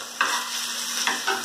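Pork shoulder fries in a little oil in a very hot pan, giving a close, steady sizzle broken by a few sharp scrapes of stirring.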